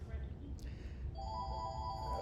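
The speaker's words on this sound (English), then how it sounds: "So ignore that phone ringing here." A telephone rings in an acupuncture clinic during a class, its electronic ringtone tones starting partway through and sounding steadily over faint room murmur.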